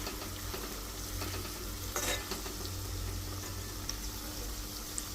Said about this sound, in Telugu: ఇక్కడ ఆనియన్ మనం ఇట్లా పెట్టేసుకొని కొంచెం సిమ్లో పెట్టేసుకోవాలి